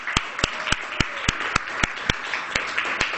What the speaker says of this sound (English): You get a round of applause for finishing your last lecture.